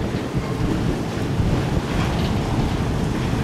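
Strong wind at sea as a tugboat pushes a large container ship into port ahead of rain: a loud, steady, roaring gust noise buffets the microphone throughout, with no voices.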